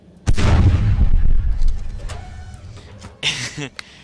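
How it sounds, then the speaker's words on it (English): A heavy volley of giant cannons in the video game Space Engineers booms loudly at once, a rumbling blast that decays over a couple of seconds, followed by a second, sharper impact. "I'm going to fire a volley of these giant cannons into the light armor"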